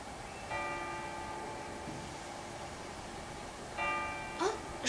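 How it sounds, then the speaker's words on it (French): Church bells ring in a bell tower holding 52 bells, two ringing strikes with long humming decays heard faintly at a distance, followed by a few quick metallic clanks near the end. "Oh, j'entends des cloches"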